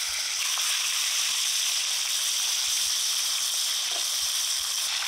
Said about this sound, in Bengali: নুন হলুদ দিয়ে যে মাছের মাথা মেখে রেখেছি সেটা কড়াইতে দিয়ে দিলাম